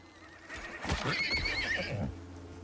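A horse in the survival video game ICARUS whinnies loudly for about a second, with hoof clops and a low steady background hum, ending abruptly.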